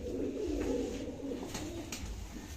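Punjabi pigeons cooing close by, soft low rolling coos repeating over a steady background of room noise.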